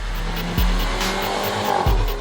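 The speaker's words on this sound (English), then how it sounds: "The engine has an energetic note and it gets you excited with its high-pitched growl." A Mercedes-Benz GLC Coupe engine growls steadily at a high pitch, loud and close, with brief tire squeals cutting through twice.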